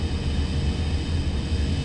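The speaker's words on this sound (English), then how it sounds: "That's the sound of that floating cheap death-dealing piece of shit that is a dataDyne gunship." A dataDyne gunship hovers in the Perfect Dark video game, giving off a steady low droning engine rumble with a broad hiss on top, constant and unbroken throughout.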